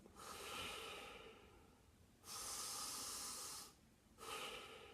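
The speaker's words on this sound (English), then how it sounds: "I'm aware of my in-breath, I'm aware of my out-breath" Slow, deep meditative breaths, close and hissing, with three long airy draws separated by brief silences.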